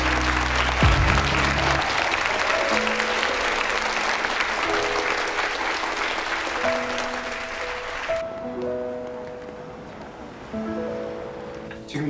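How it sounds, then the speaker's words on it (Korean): A classroom of students claps loudly for a classmate's perfect exam score, with dense applause for about eight seconds that then gives way to soft melodic tones. "자, 박수!"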